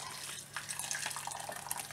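Hot water poured from a kettle over rice noodles in a bowl for soaking, a short steady splashing trickle heard close and alone.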